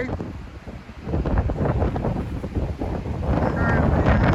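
Strong wind of about 20 mph sustained with gusts buffets the microphone in rumbling, blustery gusts that grow louder toward the end.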